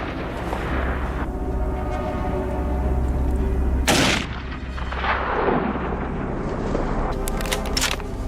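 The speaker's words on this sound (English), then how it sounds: "Gunfire echoed through the hills," A loud gunshot booms through the hills during a wild boar hunt and rolls away in a long echo, with another sharp crack near the end against a rumbling outdoor backdrop.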